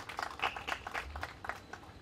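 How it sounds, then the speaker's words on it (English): Scattered applause from a small audience at a Swachh Bharat plastic recycling promotion event: faint, uneven bursts of individual claps rather than a full ovation. "Big round of applause, ladies and gentlemen"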